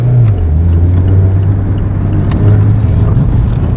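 A 2019 Mazda MX-5 Miata RF taken fast around a corner, its engine droning steadily and loud from inside the cabin with road rumble, no talking.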